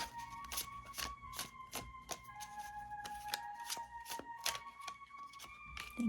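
Tarot cards riffle and snap in a steady run of crisp shuffles and flicks, close and fairly quiet, with a thin steady tone humming underneath and no talking.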